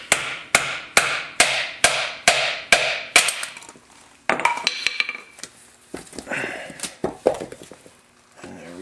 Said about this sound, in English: take like a 2x2 piece of wood. Just pound it out.